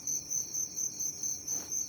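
Crickets on an Indonesian cricket farm chirp in a steady high-pitched pulsing rhythm, close and continuous, with no talk over it.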